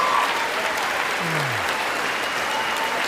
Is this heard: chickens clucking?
no